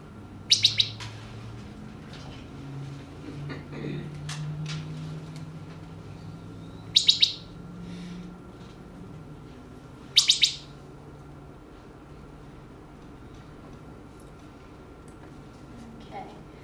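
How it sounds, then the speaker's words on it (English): Three short bursts of bright, fluting wood thrush song ring out at intervals against a quiet background with a low hum. "You hear that? That's a wood thrush."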